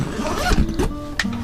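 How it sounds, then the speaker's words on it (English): Zipper on a Maverick X3 soft cab enclosure pulled closed from inside the off-road vehicle, a few quick ratcheting zips close by. "We'll grab our zipper."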